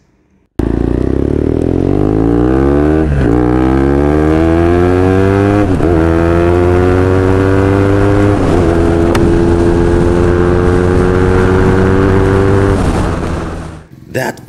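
A BMW R nineT boxer twin motorcycle fitted with an Akrapovic exhaust revs and accelerates up through several gears, loud and close, its rising engine note dropping at each shift before easing off at the end.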